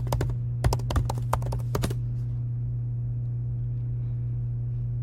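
Quick bursts of clicking keys on a computer keyboard as a password is typed, about a dozen close, sharp taps over two seconds, then stopping, with a steady low hum underneath.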